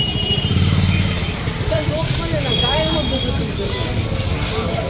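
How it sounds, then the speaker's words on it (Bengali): A motorcycle passes on a street near the Jagannath Temple area in Puri, its engine rumble steady and fairly close, mixed with busy outdoor ambience and people talking throughout. "দেখলে তো বাইকটা কিভাবে এলো"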